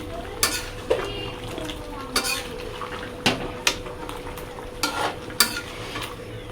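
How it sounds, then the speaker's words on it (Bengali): Mutton curry stirred in a cooking pot, the spoon striking and scraping the metal in sharp clanks at irregular intervals over a low, steady simmering hiss, close and fairly loud, with no voices. "চলো বন্ধুরা মটনটা একটু নাড়াই"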